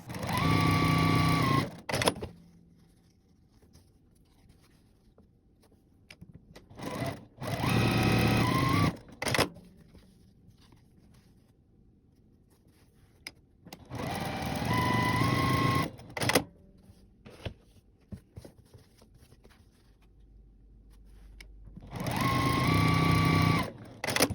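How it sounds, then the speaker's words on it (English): A sewing machine runs in repeated bursts of rapid whirring stitching of quilt block pieces, each a few seconds long, separated by quiet pauses with faint handling sounds. "bring these entire stacks over to my sewing machine, and then I can sew them all at one time"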